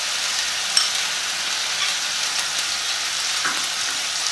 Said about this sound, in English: Fry this for some time, around 1 or 2 minutes.